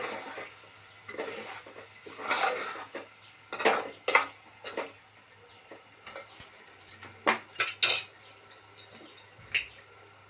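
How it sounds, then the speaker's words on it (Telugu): Eggs stirred into a spiced masala in a pan, with irregular scraping and clinking spoon strokes against the metal over a low sizzle, close and without talking. "ఇప్పుడు ఎగ్స్ వేసుకుందాం. ఒకసారి కలుపుకుందాం."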